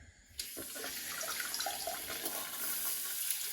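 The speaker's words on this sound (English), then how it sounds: "the water's going to shoot all out over the toilet" A stainless steel non-electric bidet attachment on a toilet starts spraying abruptly, a steady hissing rush of water splashing against a hand, continuous and close for several seconds.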